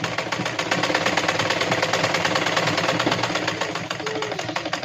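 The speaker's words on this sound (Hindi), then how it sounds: "कम तिरछी सिलाई लगाएंगे" Sewing machine stitching blouse fabric, a steady fast mechanical whir and rapid needle clatter running continuously and close for the whole stretch, with no talk.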